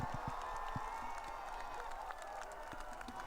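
A distant crowd applauds and cheers steadily for Pope Francis as he waves from a hospital balcony in a wheelchair, a soft sustained wash of clapping with a faint tonal hum running through it.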